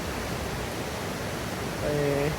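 The Menik Ganga rushing through dense forest on an off-season Sripada hike, a loud, steady roar of flowing water throughout, with a voice briefly speaking near the end.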